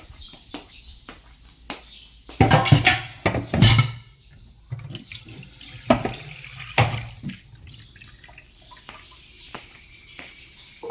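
Dishes being washed under a running tap: water splashes and gushes in bursts while pots, plates and cutlery clink and clatter nearby, with no talking.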